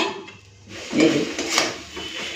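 A lid set down on a cooking pan (kadai) in a home kitchen: a short metallic clatter and scrape near the middle, close and fairly soft, with quiet handling noise before and after.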